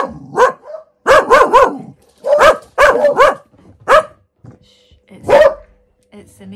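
A pet dog barks in loud, close bursts at a neighbour putting out a bin. Single and doubled barks come in uneven clusters with short pauses between them.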